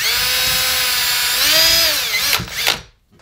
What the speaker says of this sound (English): Gonna drill out either end of it